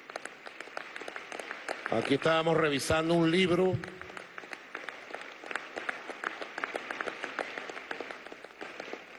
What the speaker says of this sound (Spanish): un aplauso para su familia